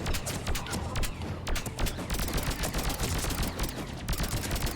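Sustained rapid gunfire from a Mass Effect 3 firefight, dense overlapping shots and bursts continuing loudly for the whole stretch with no pauses.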